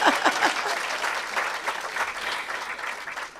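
An audience at a climate justice summer school in Nairobi claps in a steady burst of applause filling the room, loud at first and then gradually easing off.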